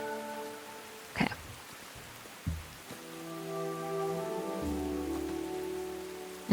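Steady soft rain falls in the video game Tales of the Shire, a quiet hiss under gentle musical tones, with a couple of brief louder knocks.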